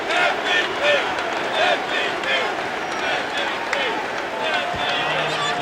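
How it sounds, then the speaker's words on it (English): Basketball arena crowd in Philadelphia at a Toronto vs Philly playoff game chanting "MVP" in a loud, rhythmic, repeated chant that fills the whole clip, with a commentator speaking over it. "Crowd's going MVP one more time."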